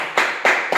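Three sharp claps from people celebrating on a serial shooting set, evenly spaced and fairly close.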